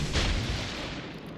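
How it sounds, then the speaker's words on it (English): Secondary guns of a battleship firing in the naval game World of Warships Legends, a single dull boom with a rumbling tail, close and loud, with no talk. "I think we even had some secondaries fire at the Karl momentarily"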